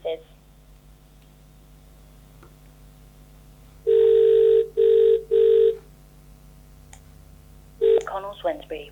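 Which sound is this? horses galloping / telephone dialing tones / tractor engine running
telephone dialing tones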